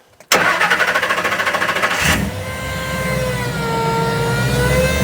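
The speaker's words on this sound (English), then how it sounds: "actually firing the motor" Ford Bronco engine cranking with a rhythmic starter chug for about two seconds, then catching and settling into a loud, steady idle close by.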